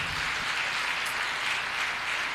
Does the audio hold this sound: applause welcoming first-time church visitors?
yes